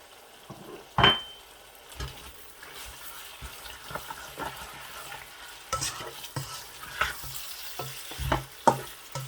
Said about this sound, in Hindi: अभी इसी तरीके से तकरीबन 10 मिनट तक मैं गोश्त को भूनूंगा।